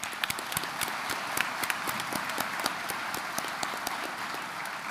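Crowd applause at a college commencement ceremony, a steady dense patter of many hands clapping in a hall, moderately loud and continuous without speech.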